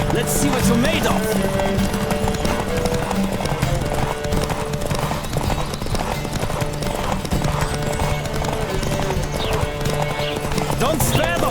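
Horses race at full gallop in The Witcher 3, a dense, continuous clatter of hooves close by, with whinnies and voices mixed in over the rhythm.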